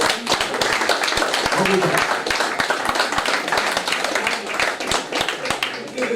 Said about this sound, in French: Avec cet applaudissement.